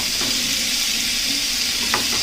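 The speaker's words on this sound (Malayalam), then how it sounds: "ഇനി ക്യാപ്സിക്കവും ടൊമാറ്റോയും ഒന്നിച്ച് ചേർക്കുന്നുണ്ട്." Chopped capsicum and tomato frying in a hot pan for egg thoran, a steady broadband sizzle with faint stirring scrapes, close and continuous with no talking.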